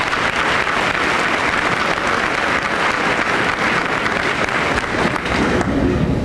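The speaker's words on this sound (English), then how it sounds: "let's give these students a nice round of applause this time." Applause for honor students at a school awards assembly in a large room, a broad continuous wash of clapping from a big crowd that holds steady throughout, then thins slightly near the end.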